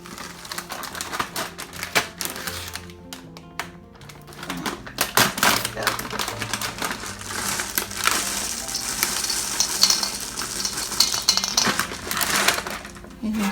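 Homemade Chex mix being stirred with candy such as peanut M&Ms, giving a continuous dry rattling and clattering of cereal and hard-shelled candy in a bowl, steady and close, with some speech over it.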